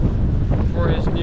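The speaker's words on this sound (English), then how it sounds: "We're gonna go into the car because it's very windy now." Strong wind buffeting outdoors during flood weather in Australia, a loud continuous roar against the microphone with a voice speaking briefly through it.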